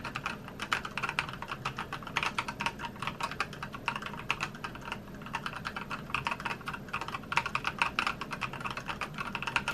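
Quiet, cute mechanical keyboard in an office setting, typed on in a fast, continuous stream of soft close clicks with no pauses, no voices.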